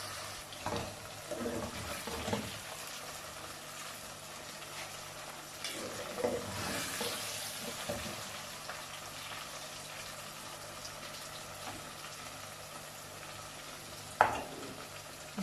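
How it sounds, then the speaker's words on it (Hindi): Okra (bhindi) frying in a pan while a spoon stirs it gently, a low steady sizzle with intermittent scraping and clinks, and a sharper knock near the end. "ये देखिए हमारी भिंडी अच्छे तरीके से फ्राई हो चुकी है"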